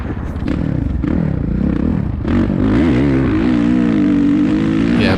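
A Suzuki RMZ450 dirt bike engine revs and pulls hard in second gear, a loud, close, continuous motor drone whose pitch rises and dips as the throttle opens, with no talk over it.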